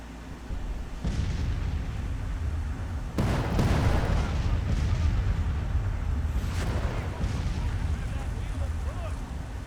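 Civil War artillery batteries fire in a strategy game, producing deep booming cannon reports and rumbling battle noise at a moderate distance, with a voice speaking underneath.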